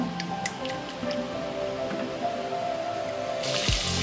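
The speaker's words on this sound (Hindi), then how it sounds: "हल्का सा इसको फ्राई करना है, 1 मिनट, ज़्यादा नहीं करना" Garlic and ginger lightly frying in a pan, with soft crackles, pops and sizzling drips close by, building to a brighter, louder sizzle near the end.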